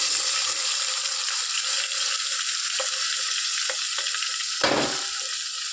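Ground masala paste for an egg curry sizzles steadily in oil with cumin over a low flame, a continuous close hiss broken by a few soft scraping stirs and a brief clatter near the end.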